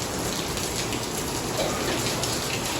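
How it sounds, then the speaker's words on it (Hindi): Heavy monsoon rain pours down in a dense, continuous hiss of drops striking surfaces, loud and even throughout with no break. "क्या जोरदार बारिश हो रही है, देखिए"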